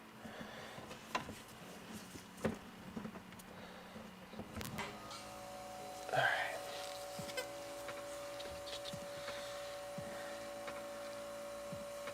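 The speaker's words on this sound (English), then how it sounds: "Let me go and turn my compressor back on." An air compressor in a dental lab starts up partway through and runs with a steady motor hum, after a few scattered clicks and knocks.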